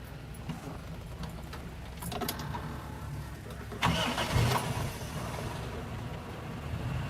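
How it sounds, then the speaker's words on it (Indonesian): A 1938 Austin of England car has its engine cranked and started, giving a low mechanical rumble that swells as it catches and then settles into a steady idle, heard close by with no talk. "Kita akan coba starter mesinnya ya."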